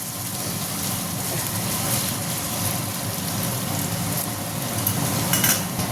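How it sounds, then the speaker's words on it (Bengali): Potatoes frying in a pan for flour chowmein give a steady, close sizzle that runs the whole time, with faint stirring scrapes and no talking. "আলুটা একটু ভাজা ভাজা হবে ভালো করে।"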